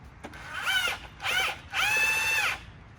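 A power tool tightens a part on a Challenger Hellcat suspension being lowered on H&R springs, giving three close, whirring bursts with short pauses between them, the last one the longest.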